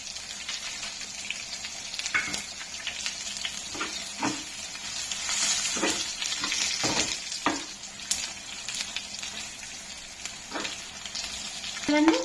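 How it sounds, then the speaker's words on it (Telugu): Urad dal and a pinch of asafoetida fry in hot oil with a continuous close sizzle, broken by occasional clinks and scrapes of a stirring spoon against the pan. "ఇదిగో వేగిపోయాయి. మినప్పప్పు కూడా వేగిపోయింది."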